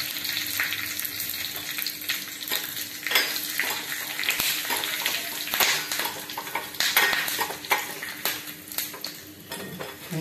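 Loud, close sizzling of spices, curry leaves and asafoetida frying in oil, with scattered sharp pops and occasional clinks of a utensil stirring the pan.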